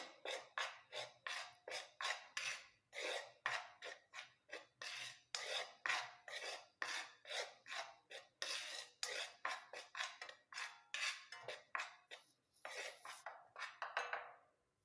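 Two hair-dye powders being mixed together in a bowl, a steady run of rhythmic scraping strokes, roughly two per second, close and dry-sounding with brief pauses near the end.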